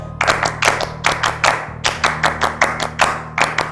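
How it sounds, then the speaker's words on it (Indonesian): A group performs scout-style tepuk pramuka, close, crisp claps grouped in a steady patterned rhythm of quick bursts, repeating for several seconds with no talk over them. "Kita tepuk pramuka dulu, oke?"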